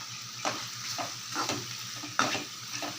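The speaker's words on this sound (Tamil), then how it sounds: "நல்லா இப்போ கலந்து விட்டுடலாம்" A spoon stirs chili powder into a vegetable curry frying in a pan, making rhythmic scraping strokes about every half second over a low, steady sizzle, heard up close without any talk.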